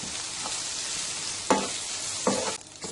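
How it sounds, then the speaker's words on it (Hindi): Small boiled chicken pieces frying in spice masala in a pan, a steady soft sizzle with a couple of brief stirring scrapes, close and fairly quiet, no talking. "वो डाल देते हैं और अच्छे तरीके से इस मसाले में भून लेते हैं"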